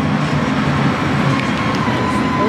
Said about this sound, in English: Taking the scenic tram route through Prague,